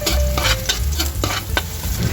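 Garlic frying in cooking oil in a pan for ampalaya with chicken flakes, a steady sizzle under repeated scraping and stirring strokes, close and fairly loud with no talk.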